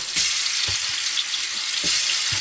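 Chicken wings coated in bourbon BBQ seasoning frying in a hot pan, a steady loud sizzle throughout with occasional soft knocks of the pieces shifting.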